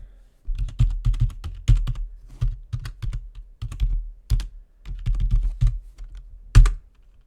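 Keystrokes on a computer keyboard, in steady irregular clusters of close, crisp clicks and taps with brief pauses, alone without talk.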